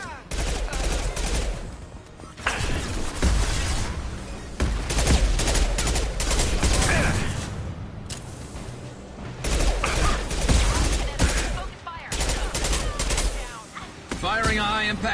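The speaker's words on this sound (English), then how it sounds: "Firing a high-impact shot." Sustained gunfire and heavy weapon shots in the sci-fi shooter game Mass Effect 2, loud and dense in rapid bursts with short pauses, layered with combat effects and some voices.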